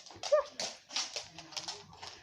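A dog whimpers and yips in short, soft bursts while chasing bubbles, its small cries scattered unevenly over a couple of seconds, close by and fairly quiet.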